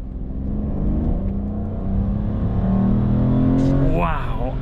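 An Aston Martin DBS in sport mode accelerates hard, its engine note climbing steadily in pitch and loudness, heard close from inside the cabin, with a brief rising whine near the end.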